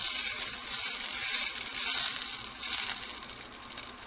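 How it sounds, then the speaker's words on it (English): Butter and olive oil melt and sizzle in a pan, a steady bright hiss of frying that stays fairly even and close throughout. "I've got the butter and the olive oil melting"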